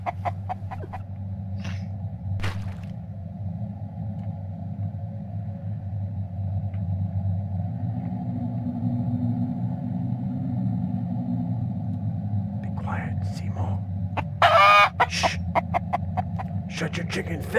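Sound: chicken clucking in video game Mist Survival

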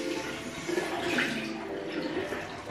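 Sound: water running while wetting a makeup cloth

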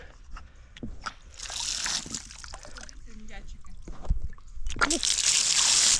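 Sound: water running from a campsite tap

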